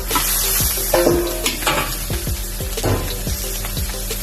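Fried tofu and noodles for pad thai hiss and sizzle loudly in a hot pan, with repeated scraping strokes of a spatula stirring them in an irregular rhythm.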